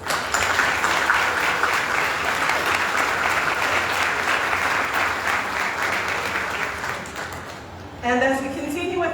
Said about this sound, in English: who deserve once again a round of applause